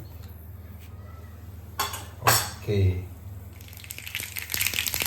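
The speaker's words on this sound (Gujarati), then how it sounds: "આપણે એમાં 1 ચમચી રાઈ એડ કરીશું." A teaspoon of mustard seeds drops into hot oil in a home kitchen, with a couple of clattering pan knocks before a rising, crackling splutter builds toward the end. A brief spoken word comes early.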